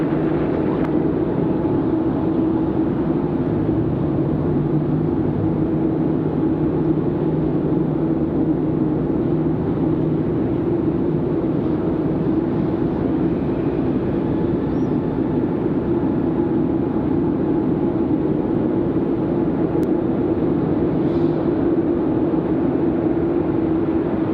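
An American airliner takes off from runway 23 right at Raleigh-Durham International Airport, its jet engines a steady, continuous roar with a broad rumble that stays even and fairly loud throughout, with no voices over it.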